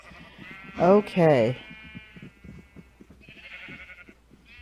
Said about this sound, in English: I know there's still a cow in there and a sheep